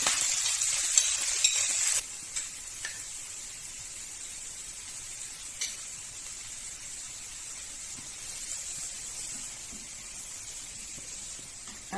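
Prawns frying in a pan with drumstick leaves give a steady, close sizzle and hiss throughout, loudest in the first two seconds and then settling to an even spit with a few soft stirring clicks.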